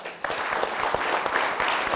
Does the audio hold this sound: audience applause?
yes